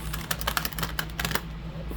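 A tarot card deck is shuffled close up, giving a run of quick papery clicks and riffles over a low steady hum.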